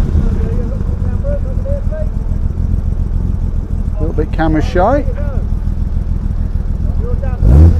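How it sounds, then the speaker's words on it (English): A Jaguar D-Type classic car engine idles with a steady low rumble throughout, with a person talking briefly over it and a louder burst of motor noise near the end, at a London to Brighton classic car run. "Now this Jag is gonna make some noise, this D-Type, I think."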